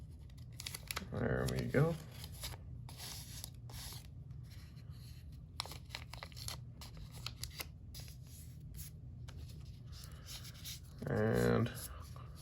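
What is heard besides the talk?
tape being torn and wrapped over a Benchmade 940 knife blade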